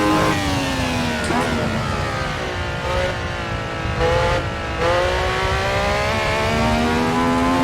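A 1976 Formula 1 car, the model from Niki Lauda's famous crash, races in Assetto Corsa at the Goodwood Festival of Speed. The engine screams loud and close at high revs, its pitch climbing and dropping sharply through repeated gear changes.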